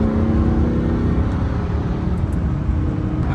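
A Lamborghini drops a gear and revs, its engine note a steady, moderately loud growl with road noise and no talking.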